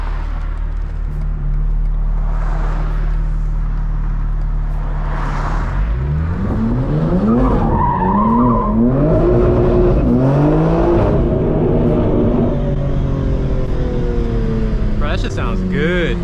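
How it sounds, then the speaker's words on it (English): A BMW M4 fitted with new downpipes revs its engine, the exhaust note climbing and falling through several throttle blips before settling, loud and close; a voice speaks briefly over it. "I definitely kind of will be happy with how the car sounds right now"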